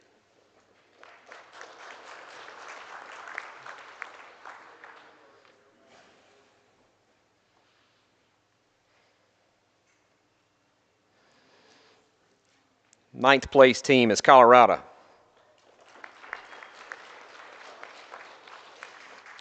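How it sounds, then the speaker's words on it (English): Audience clapping at a National 4-H livestock judging contest awards ceremony, two sustained bursts of applause filling the room on either side of an announcer calling out a team placing. "Keep on clapping, guys. They deserve it."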